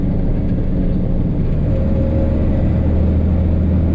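A truck with a DT466 diesel engine cruising at steady speed, its low mid-range drone and road rumble continuous and loud throughout, with no voices.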